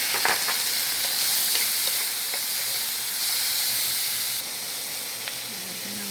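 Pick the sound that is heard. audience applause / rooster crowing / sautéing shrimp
sautéing shrimp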